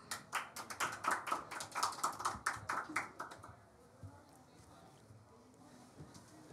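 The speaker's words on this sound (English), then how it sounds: "we'll receive her with a round of applause" Brisk clapping from a conference audience welcoming a speaker, a few seconds of quick overlapping claps that thin out and fade into quiet room tone.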